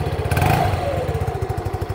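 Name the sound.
scooter engine running quietly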